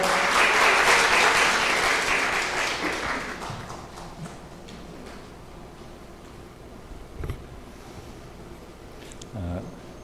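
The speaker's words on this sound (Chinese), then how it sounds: "我们热烈掌声欢迎见证执事来" Church congregation applause welcoming a deacon to the front, loud and full at first, then fading away within a few seconds into room noise, a couple of soft bumps, and a brief voice.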